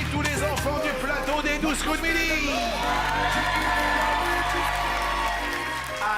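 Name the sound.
audience applauding and cheering for children on TV show set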